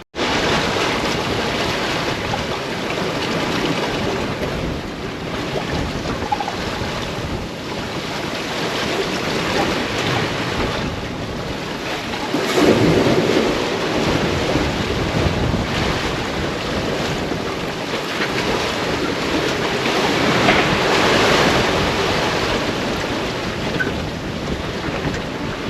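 Continuous rushing ocean waves and heavy wind buffeting the microphone aboard a sailboat underway south of New Providence, a loud steady wash with gusts swelling now and then and no voices.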